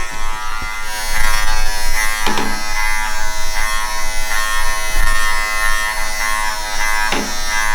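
Electric hair clippers fitted with a number two guard buzz steadily at close range while cutting hair during a taper fade, with a few brief louder bursts as the blade passes through.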